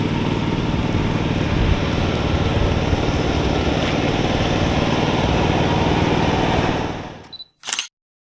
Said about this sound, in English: He's mowing the lawn right now